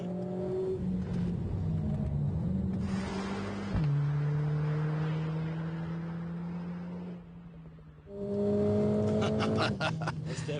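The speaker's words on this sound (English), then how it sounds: "The dual clutch sounds like it agreed." A Mercedes-AMG car with a Speed Shift dual-clutch transmission revs through its gears, the engine note rising then dropping abruptly at shifts, easing off near eight seconds before surging loudly again, close and continuous with no talk.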